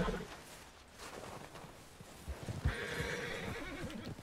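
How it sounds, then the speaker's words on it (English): A horse in Red Dead Redemption 2 neighs and whinnies over the game's ambient sound. The call swells into a louder, sustained whinny toward the end, with a few hoof clops underneath. "There's a fucking horse here!"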